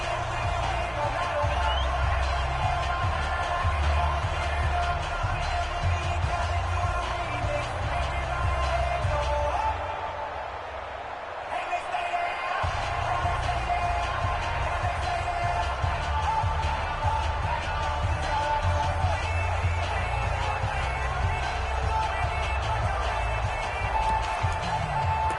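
Stadium crowd at an American football game roars in a steady, loud wash of many voices, dipping briefly near the middle before surging back at full strength.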